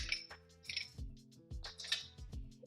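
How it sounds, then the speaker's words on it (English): Ice dropped into a mixing glass while making a non-alcoholic virgin paloma, giving several bright clinks and clattering knocks in irregular bursts, close and fairly quiet, with no voices. "Then we're going to go ahead and ice up our mixing glass."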